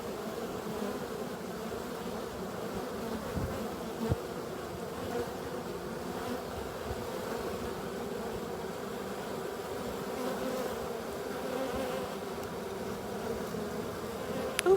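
A dense, steady drone of many honey bees buzzing close by, continuous and unbroken, with no talking.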